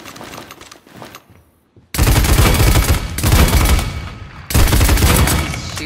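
Weapon gunfire in the video game Paladins: a light burst of shots is followed by a short pause, then two long, dense, loud bursts of rapid automatic fire with no talk.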